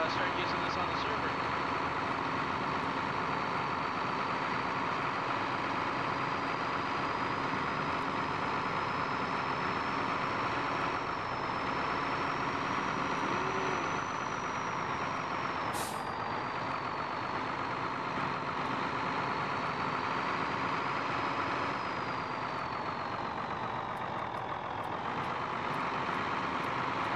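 A truck engine idling in Farming Simulator 2015, a steady mechanical drone with a faint whine, continuous and fairly loud beneath someone talking.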